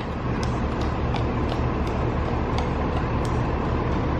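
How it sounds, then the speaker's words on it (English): A resort bus at Disney's Fort Wilderness rumbles past at close range, a steady low engine and road noise that holds level for several seconds, with faint sharp ticks above it and no talk. "Oh, the bus has got to get by."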